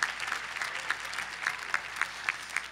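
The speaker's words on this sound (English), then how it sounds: "Round of applause for the idea." A commencement ceremony audience applauds, a soft, distant patter of many hands with a few louder individual claps popping out at irregular intervals.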